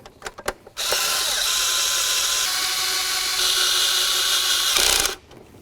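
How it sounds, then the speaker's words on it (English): Cordless drill or impact driver snugging the 10mm throttle body bolts on a 2008-2012 Jeep Liberty: one loud, steady whirring run of about four seconds, close up, between brief handling clicks and with no talking. "So now we'll just snug up these bolts."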